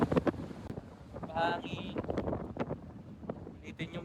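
Strong wind buffeting the microphone in gusty rumbles while people talk and shout nearby.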